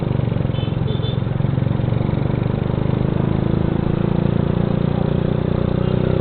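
A loud motorcycle engine with a racing exhaust runs steadily up close, its throaty exhaust rumbling at a constant idle with no speech.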